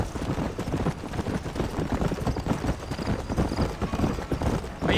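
A horse gallops in the Western video game Red Dead Redemption, with fast, rhythmic hoofbeats pounding close and loud over dirt for the whole stretch.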